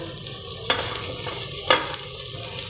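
Cabbage, peas, cauliflower, carrots and potato sauté in a hot pan with a steady close sizzle, broken twice by the scrape of a spoon stirring, with no talk.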